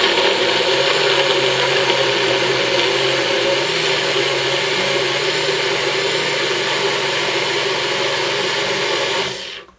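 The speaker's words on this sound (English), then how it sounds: "I just put the contents right into the NutriBullet and I'm going to put it onto the base" A NutriBullet blender purees roasted cauliflower curry soup with a loud, steady, high-pitched motor whine that holds for nearly ten seconds, then cuts off abruptly at the end.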